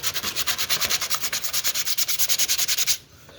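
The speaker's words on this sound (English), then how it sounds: "We're just going to hand sand this entire thing all the way down." Sandpaper rubs by hand over a wooden crucifix in quick back-and-forth strokes, close and even, about two dozen rhythmic scrapes before stopping abruptly.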